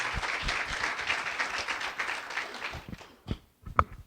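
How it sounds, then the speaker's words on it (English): Conference attendees at an animal rescuer event clap for the rescue crew, a dense round of applause that thins into a few scattered, separate claps near the end. "we all give them a round of applause as well for this weekend"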